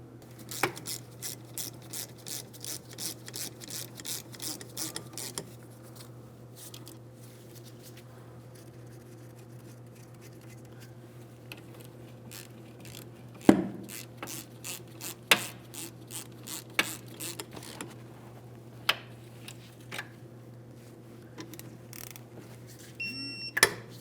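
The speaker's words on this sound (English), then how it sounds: "We'll start those in, snug them up, and then I'm going to torque it to 20 foot-pounds." Caliper slider bolts on the rear brakes of a 2007–2014 Ford Edge are ratcheted snug and then torqued to 20 foot-pounds. Rapid rhythmic ratchet clicks sound close by, pause, and return in shorter runs against a steady low hum.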